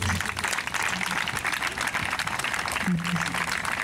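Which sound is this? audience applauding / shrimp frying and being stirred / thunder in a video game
audience applauding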